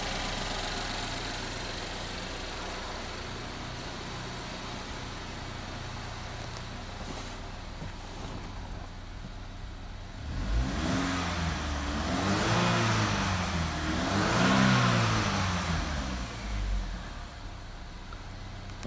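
A 2010 Chevy Equinox with a 2.4 liter engine, automatic and all-wheel drive, idles steadily on an engine test, then revs up in three rising and falling bursts before settling back, loud and close with no talking.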